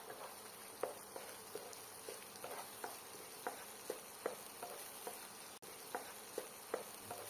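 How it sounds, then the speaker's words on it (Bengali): Ginger paste and green chilli paste being stirred into a hot tempering in a pan, with a soft continuous sizzle and regular light spatula scrapes, fairly quiet and without voices. "এই মশলাগুলোকে একসাথে মিশিয়ে নেব ভালোভাবে।"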